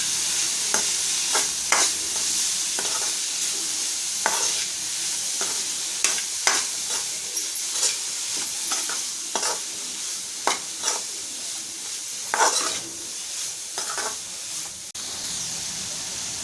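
Cauliflower curry with coriander powder and garam masala being stirred in a pan, a steady sizzle under repeated scraping strokes of the spoon at an irregular rhythm, close and moderately loud with no talking.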